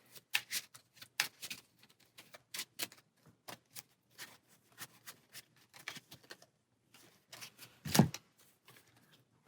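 A deck of Marvel Champions cards being shuffled by hand, quick crisp riffles and taps in uneven bursts, close and fairly quiet, with no talking.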